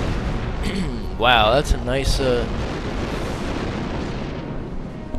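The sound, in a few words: ordnance explosion in Star Wars Republic Commando video game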